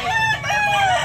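A gamecock crows at a fighting-rooster market in Carbon, Cebu, one loud nearby call with a rising then drawn-out falling tone over soft background crowd murmur.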